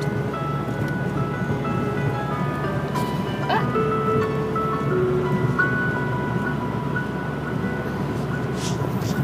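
Piano music by a Minnesota pianist plays in the background during a drive along the north shore, sustained notes sitting under steady road and engine noise.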